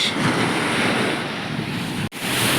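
Ocean surf rolls in at a wide beach in Pondicherry, a steady loud wash of breaking waves mixed with heavy wind buffeting the microphone, with a brief dropout near the end and no speech.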